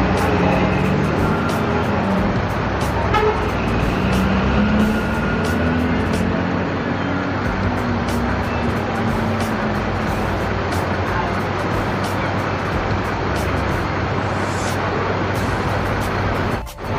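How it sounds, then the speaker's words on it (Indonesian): Eka Patas bus pulling into a lane inside a busy bus terminal, a loud steady engine rumble and road noise filling the whole stretch, with general terminal din around it. "ini bus Eka Patas, nampaknya masuk di lane keempat"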